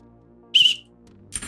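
A short, bright whistle blast sounds in the video game Quasimorph, followed after a pause by a second softer, breathy burst over a quiet low hum.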